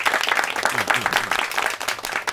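A party committee meeting claps to pass a resolution, a lively burst of many hands applauding close and loud, with a voice briefly audible beneath the clapping.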